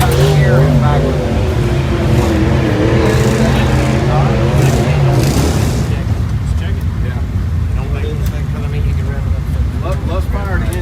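Race car at Tri-County Speedway in Flomaton, engine fired up in the pits, a loud rough idle and revving that fades after a few seconds, with people talking nearby.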